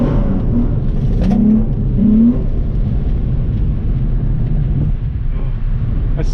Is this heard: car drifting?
yes